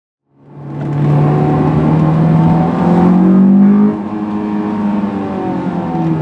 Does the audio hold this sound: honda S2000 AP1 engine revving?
yes